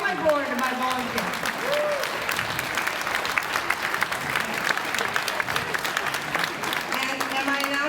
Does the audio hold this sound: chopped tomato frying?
no